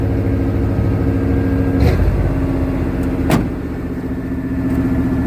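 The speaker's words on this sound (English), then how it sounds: "Doesn't want to kick out a high idle, but it's probably not really warmed up yet." An old Chevrolet Suburban's engine idles steadily just after its first start in years, a loud, close, even rumble with a couple of brief clicks or clunks over it.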